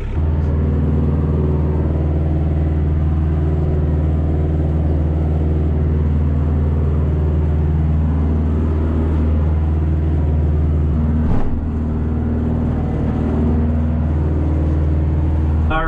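A loud, steady low engine rumble with a droning hum from a compact tractor driving over ground while skidding trees, running continuously close by, with a brief clunk near the end.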